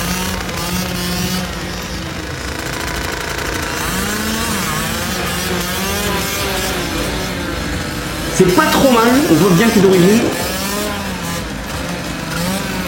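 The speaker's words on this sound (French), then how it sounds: "Je débute en wheeling avec une Fantic Enduro 50, je n'arrive pas à passer la deuxième" Fantic Enduro 50 motorcycle doing wheelies, a buzzing small two-stroke engine that rises and falls in pitch and revs harder partway through, heard under ongoing talk.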